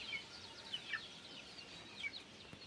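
Faint, distant chickens give a few short, scattered clucks against a quiet background.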